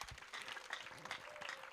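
Church congregation applauding during a worship service, a continuous patter of many hands clapping at moderate distance, fairly soft and steady throughout.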